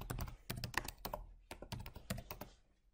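Rapid typing on a computer keyboard, close and fairly quiet, with bursts of clicking keystrokes and short pauses that trail off toward the end.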